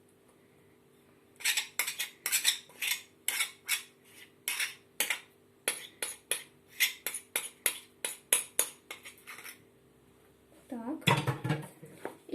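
A utensil stirs sourdough starter in a dish, giving a run of quick rhythmic scraping clinks against the container, close and fairly crisp, with a brief spoken word near the start.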